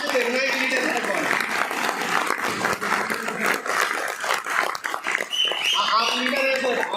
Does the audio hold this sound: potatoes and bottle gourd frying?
no